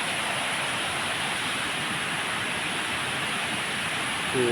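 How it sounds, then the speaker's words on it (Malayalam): Water pours down a dam in a steady, loud, hissing rush, a constant broad roar like a waterfall that never lets up. "വെള്ളം എന്താ താഴെയാണ് വീഴുന്നത് കാണുന്നുണ്ട്"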